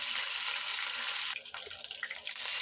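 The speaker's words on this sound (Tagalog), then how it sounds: "Ito nga yung second batch ng ating ipiprito guys." Pork batok deep-frying for sisig in its second batch gives a loud, steady sizzling hiss that drops abruptly partway through into quieter, uneven crackles and pops.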